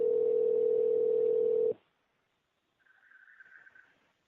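A steady telephone dial tone sounds loud for under two seconds and cuts off. After a short silence a fainter, warbling ring-like tone follows.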